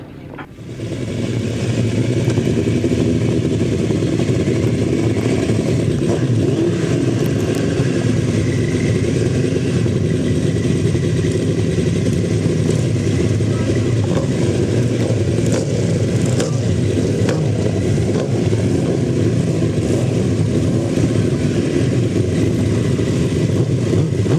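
Engines of grasstrack sidecar racing outfits at a Bewdley meeting, a loud, steady, continuous roar of several machines revving together close by, holding unbroken throughout.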